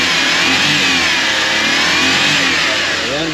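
A Suzuki Every van's turbocharged engine revs loudly and continuously at close range, holding a steady, strained mid-pitched drone with no talk over it.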